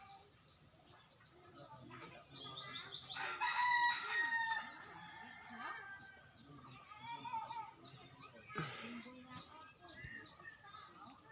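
Roosters crow and hens cluck at a distance, with bird chirps and a few faint voices mixed in among the calls.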